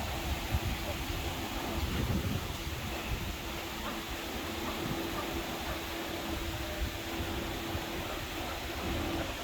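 Wind blows steadily around a small Missouri wind generator mounted above coconut trees in the Philippines, a constant rushing roar with a faint mechanical hum running through it.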